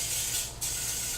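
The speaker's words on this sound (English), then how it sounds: "I'm going to take a little coconut spray" Coconut oil cooking spray hisses onto a non-stick pan in a home kitchen: close, bright spray bursts split by a short pause, with no talking.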